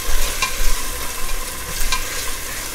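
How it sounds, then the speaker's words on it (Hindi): Ginger garlic paste with mint leaves frying over low heat in a pan and stirred steadily, giving a soft continuous sizzle with a few brief scraping strokes of the spoon, close by, with no voices. "बस जिंजर गार्लिक पेस्ट जो हमने डाला है वो ज़रा सा भुन जाए"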